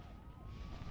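A police siren wails in the Mirror's Edge video game, a single rising and falling tone that is faint and distant under the background noise of the game.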